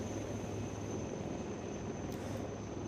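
A rescue helicopter flies over Trikut hill during a rescue operation, giving a steady, distant rotor-and-engine drone that holds even throughout with no talk.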